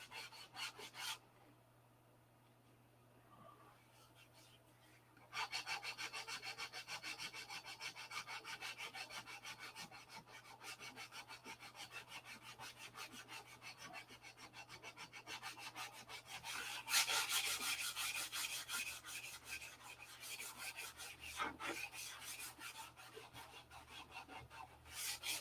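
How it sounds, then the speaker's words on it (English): Hand sanding on a P-47 model, a rough rhythmic rasping that starts after a quiet opening and keeps up steady, fast strokes, close and faint with no talking. "we're sanding all that shit off"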